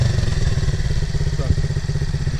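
A motorcycle engine runs with a loud, close, steady rhythmic chug, holding a fairly even pitch across the short stretch with a brief clunk midway.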